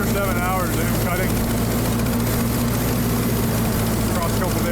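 A 1948 Ford 8N tractor engine runs steadily while brush hogging a pasture, a loud continuous low drone with faint voices partly heard over it.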